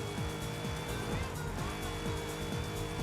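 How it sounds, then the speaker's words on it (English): A Mercedes engine fitted to a car in Forza Horizon 5 drones steadily and loudly throughout, with repeated rising rev sweeps and the faint hiss of tires, in a high-performance winter racing event. "it does sound pretty much like the upgraded Mercedes engine sounds"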